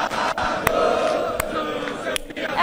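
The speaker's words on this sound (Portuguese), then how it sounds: "Sobe o som da torcida do São Paulo no Gazeta Esportiva ao vivo" São Paulo supporters roaring and chanting in the Morumbis stadium, a broad sustained crowd noise with sharp claps or thumps cutting through now and then.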